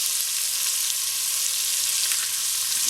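Chopped onions and green pepper fry in a pan alongside chicken livers, giving a steady, even sizzle that stays close and constant, with no voices over it.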